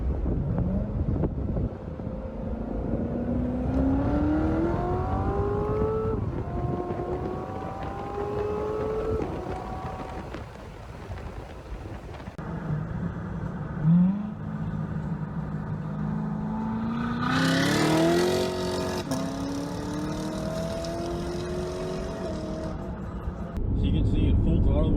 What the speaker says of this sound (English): I will include a full throttle run right here just so you guys can see.